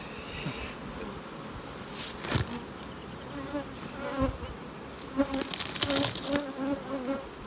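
Honeybees buzz around an open hive in hot weather, a dense steady drone with individual bees swelling loudly past nearby, and no talking.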